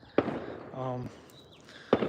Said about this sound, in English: right now, you hear the fireworks in the background